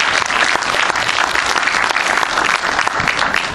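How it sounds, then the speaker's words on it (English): Loud, sustained round of applause from an audience at a Korean traditional-music and jazz performance event, a dense continuous wash of clapping with no gaps. "So please give her a round of applause for trying to make a difference."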